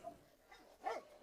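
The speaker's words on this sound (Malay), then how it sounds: "Anjing-anjing tu dah jadi gila." Dogs, including a blue Cane Corso, let out a few faint, distant barks and a short whimper, thin and low in level over a quiet background.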